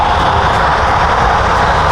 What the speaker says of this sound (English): The engines are going.